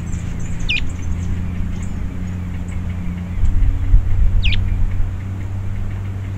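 Wild birds give two brief, thin descending chirps, spaced a few seconds apart, over a steady low engine-like rumble in a dry-season outdoor setting where animals gather near water.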